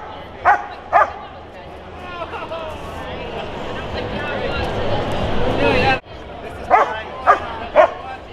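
Dogs bark in short sharp bursts, a few at the start and several near the end, with murmuring voices and background noise in between, at a cannabis cup event in Denver.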